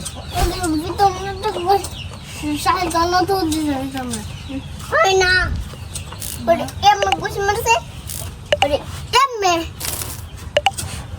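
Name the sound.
chicken clucking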